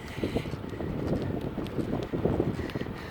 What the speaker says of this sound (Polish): pod wiatr, wiatr w oczy wieje.